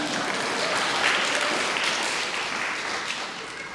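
An audience breaks into loud, sustained applause in a lecture hall, a dense wash of many hands clapping together that holds steady and then eases slightly, with no talk over it.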